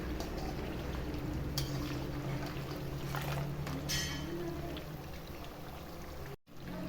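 Kurkure snack dough fries in hot oil with a steady bubbling sizzle, heard close and fairly loud. A few clinks break in, the frying eases slightly toward the end, and there is a short dropout near the close.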